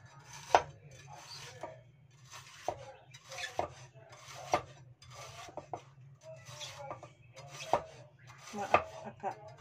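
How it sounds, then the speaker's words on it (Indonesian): Bitter gourd is sliced thinly on the diagonal with a knife, producing a quiet series of sharp, close chops roughly every second, each with a brief scrape, in a dim home kitchen with no talking. "aku ngirisin parenya dulu ya"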